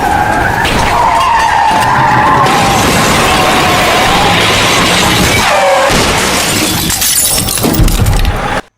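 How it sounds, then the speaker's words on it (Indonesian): Bus in the Bus Simulator Indonesia game slamming into a container from behind, with loud tyre skidding, a crunching impact and shattering glass, ending abruptly. "Setelah itu diikuti bus lain yang menabrak kontainer dari arah belakang."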